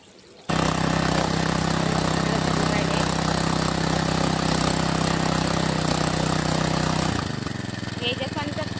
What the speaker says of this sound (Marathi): चला आपली आता मोटर चालू झाली.